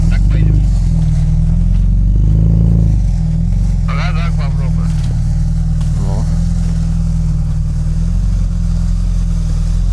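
UAZ Patriot off-road vehicle with a loud, steady low engine drone throughout, rising briefly as it revs, with people talking over it.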